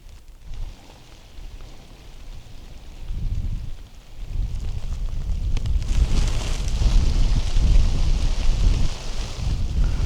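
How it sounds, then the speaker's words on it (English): Wind picks up in the Badlands during a whitetail hunt, a low rumbling buffet on the microphone that swells into a loud, steady gusting roar. "The clouds moved in, the wind picked up"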